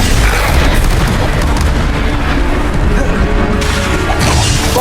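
Bombarda spell explosions in Hogwarts Legacy, loud booming blasts and crashing debris piling on top of each other in a dense, continuous barrage at close range.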